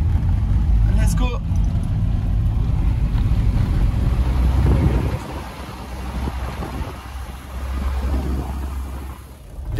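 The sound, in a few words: old 2-litre petrol van climbing mountain road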